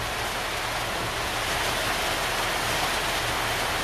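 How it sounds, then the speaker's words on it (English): Steady rain falls outdoors in a continuous dense hiss, even and unbroken, with no voices over it. "the rain is actually starting to come in under now."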